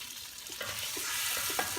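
Bihon rice noodles are stirred and tossed in a hot pan for pancit, giving a quiet, steady sizzle with soft scraping strokes.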